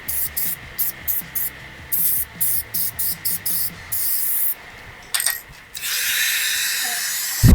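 An aerosol can spray-paints Porsche Boxster S brake calipers red in a final coat. Short, close hissing bursts come in a quick rhythm, then give way to one longer continuous spray.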